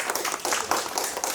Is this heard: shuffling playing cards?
no